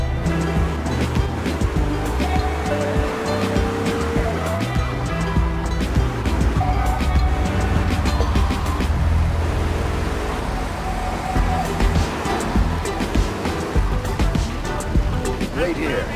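A car driving in the video game GTA 3: a steady engine drone with tire noise running the whole time, while game characters talk over it.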